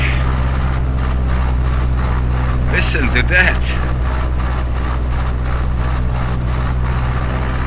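A Cessna 152 piston engine in Microsoft Flight Simulator, held near 2000 RPM for a run-up magneto check, drones steadily and loudly throughout, with deep low harmonics. Someone speaks briefly over it.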